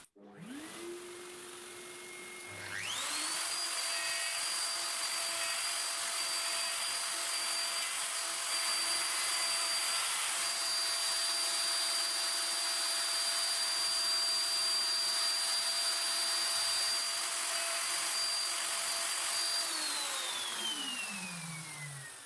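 A wood router spins up and cuts a hinge mortise in wood with a mortising jig, a loud steady high whine held for many seconds before winding down at the end.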